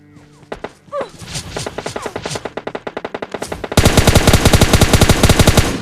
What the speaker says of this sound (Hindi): हूँ और तभी मेरे पे फायर आता है।